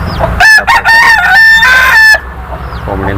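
Loud, close calls from hens in a poultry shed at laying time, a drawn-out squawking cry followed by a shorter call, with a faint background hum.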